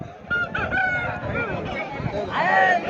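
Rooster calls at a busy Sunday chicken market in Pileru, where aseel fowl are traded, with crowing and clucking cries rising over steady crowd chatter and a loud call near the end.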